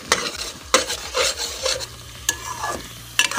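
Eggs sizzling in ghee in a pan while a utensil stirs them, with a series of scraping stirs over a steady frying hiss.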